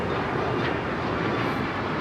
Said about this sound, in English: This is Alaska Airlines 1374 taking off to Loretto on the MAX 9